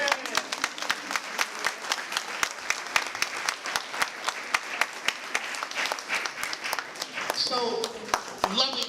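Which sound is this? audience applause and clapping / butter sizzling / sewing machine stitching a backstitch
audience applause and clapping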